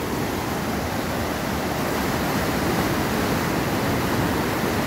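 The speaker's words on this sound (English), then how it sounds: "here at the Lehardy Rapids in Yellowstone" Lehardy Rapids on the Yellowstone River rush in a loud, unbroken roar of churning whitewater, steady and close, with no voices.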